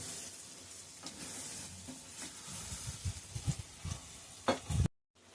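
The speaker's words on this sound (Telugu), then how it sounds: "పచ్చిమిర్చి ఆయిల్లో మంచిగా మగ్గిపోయింది" Faint sizzling of green chillies frying in oil, with soft stirring scrapes that grow a bit louder toward the end before cutting off.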